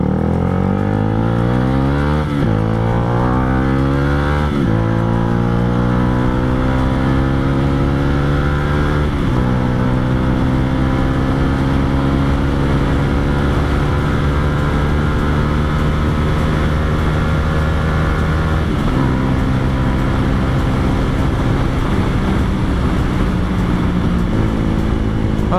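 A Yamaha R15 V2 motorcycle rides along an empty road, the engine droning continuously and loud, pitch climbing through several gear changes before settling into a steady cruising hum with wind rush.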